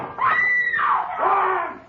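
A woman lets out a long, piercing scream in a radio drama, loud and close, rising and then trailing off in a second wail.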